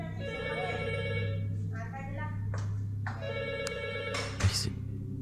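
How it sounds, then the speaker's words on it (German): A telephone rings in repeated electronic bursts, moderately loud in a room, with people talking quietly in the background. "Telefon klingelt."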